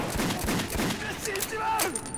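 Gunfire in a tense combat scene: a quick string of sharp shots at moderate loudness, followed by whistling, sweeping tones, with no speech over it.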